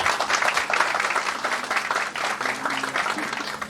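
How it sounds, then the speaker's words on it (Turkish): An audience at a Turkish İYİ Party political gathering applauds in a dense, steady wash of many hands clapping, rising and dipping over a few seconds. "Ben de sizleri alkışlıyorum"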